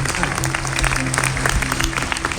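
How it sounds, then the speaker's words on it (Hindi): A hall audience at a Ram katha recital by Kumar Vishwas claps in a dense, continuous wash of applause, with a voice and tonal sound layered over it. "एक बार इस पूरे सदन को आप गुंजाइएगा, अपनी करतल ध्वनि से"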